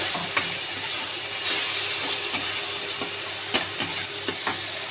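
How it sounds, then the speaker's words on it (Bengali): Onion paste and ginger paste frying over softened tomato in a pan, giving a constant hissing sizzle with occasional sharp stirring scrapes, close and without talk. "এবার আমি পেঁয়াজ বাটা আর আদা বাটা 1 চামচ দেব, আর একটু দিয়ে একটু নেড়ে নেব।"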